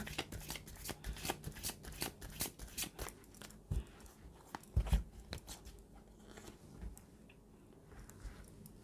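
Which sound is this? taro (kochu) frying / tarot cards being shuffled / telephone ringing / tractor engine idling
tarot cards being shuffled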